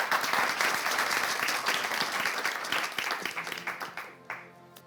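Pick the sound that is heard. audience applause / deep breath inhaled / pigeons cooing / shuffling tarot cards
audience applause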